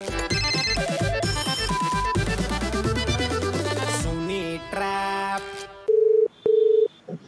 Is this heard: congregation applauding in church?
no